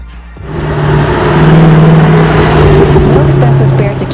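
A 2008 Mercedes-Benz CLK63 AMG Black Series V8 exhaust, a deep steady rumble that rises into a loud sustained rev and holds near the microphone for several seconds, with no talk over it.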